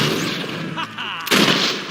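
Gunfire from bandits and renegades in the Fable video game, a few loud close shots and bursts amid battle noise, with a sharp heavy blast near the end.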